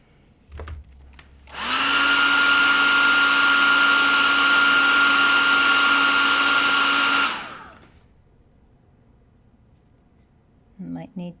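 A hair dryer drying watercolor paint switches on after a click and blows steadily at close range for about six seconds, then winds down and stops.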